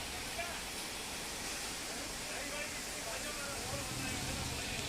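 Floodwater rushes over a highway during heavy monsoon rain in a steady, dense roar, like a waterfall, unbroken throughout.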